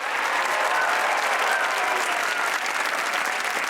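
Studio audience at a Pakistani comedy talk show breaking into loud, steady applause that holds at full strength throughout, close and dense.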